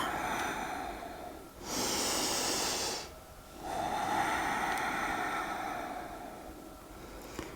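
Slow deliberate breathing during a yoga exercise on a mat, two long airy exhales or inhales of several seconds each, close and fairly loud, no talking.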